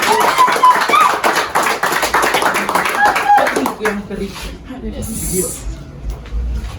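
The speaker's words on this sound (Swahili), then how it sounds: "Mpigeni makofi" Applause from a congregation at an overnight prayer meeting: dense, fast clapping that swells in the first few seconds, then thins into scattered claps under voices and crowd noise.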